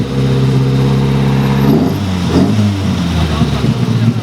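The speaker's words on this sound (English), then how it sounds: "Can I rev it? Can I give it a rev? Go for it." A rally car's engine revs hard at a car meet, loud and close, climbing in pitch for a couple of seconds and then dropping back, with a person talking over it.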